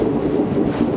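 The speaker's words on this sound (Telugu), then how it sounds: "మనం స్టిల్ ఇంకా ట్రైన్లోనే ఉన్నాం." Passenger train on the way to Varanasi near Nagpur Junction, heard from inside the carriage as a steady low rumble with faint rhythmic wheel clatter over the rails, continuous and moderately loud with no talking.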